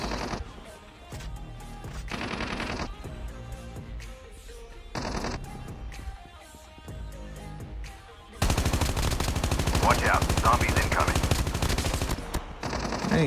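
Gunfire in Call of Duty Mobile battle royale: repeated bursts of automatic weapon fire in short volleys, then a long, loud, sustained stretch of rapid shooting near the end.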